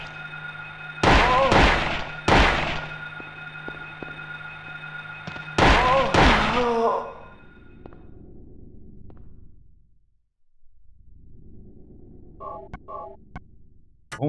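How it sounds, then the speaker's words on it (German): Gunfire in the Silent Hill video game: several loud, sharp shots in quick pairs with ringing tails, followed by low droning ambience and a few faint metallic ticks. "ganz schön viele Schüsse"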